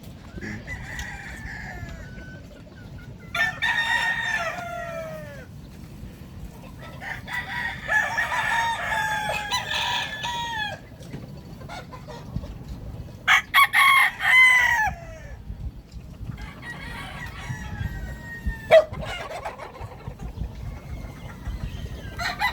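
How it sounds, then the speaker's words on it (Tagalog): Hens cluck and roosters crow repeatedly on a farm, loud and close, with several overlapping calls over a steady outdoor background. "Pinainom na yung mga manok natin."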